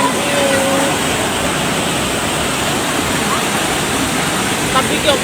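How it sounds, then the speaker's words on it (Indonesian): Floodwater from a flash flood on the Serang river at Walahan, Jepara, roars continuously in a dense, steady rush that stays loud and unbroken throughout, with no voices heard over it. "Banjir Sungai Serang, Walahan, Jepara."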